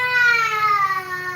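An angry black cat gives one loud, drawn-out meow close by, its pitch sliding slowly downward over about a second and a half.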